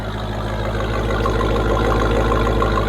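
A 2021 Jeep SRT Trackhawk with a supercharged 6.2L Hemi V8 and Corsa Extreme dual exhaust idling, a loud, deep, steady rumble with a fast even pulse, close by and with no talk.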